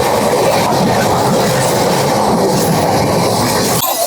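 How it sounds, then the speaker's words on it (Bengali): A MEMU passenger train rumbles loudly at Barddhaman station, its wheels clattering steadily along the rails throughout before the sound cuts off abruptly near the end. "এই হচ্ছে আজকে আমাদের ট্রেন"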